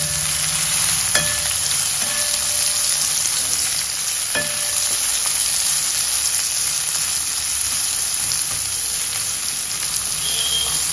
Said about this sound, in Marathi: आता आपण एक कांदा उभा चिरलेला होता तो घालूया. तो छान परतून घेऊया.